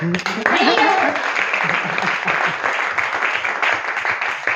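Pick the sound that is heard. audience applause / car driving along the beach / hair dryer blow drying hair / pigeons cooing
audience applause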